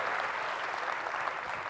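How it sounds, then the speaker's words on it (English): Audience clapping for volunteers at an entrepreneurs' motivational talk, a dense steady applause from a whole room filling the clip at an even level. "So a proper round of applause. Come on, give them a round of applause."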